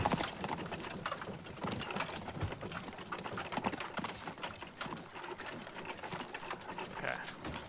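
In the video game Teardown, a horse pulls a cart, with continuous clattering hoof clip-clop and rattling mechanical knocks under dense, busy noise at a fairly faint level.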